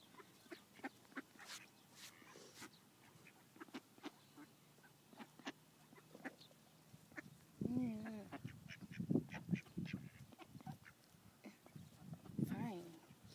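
Ducks and geese being fed by hand, with quacks and honks bursting out in a busy cluster partway through, close by, mixed with clicks and the voices of people talking.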